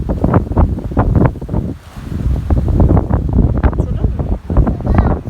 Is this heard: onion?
no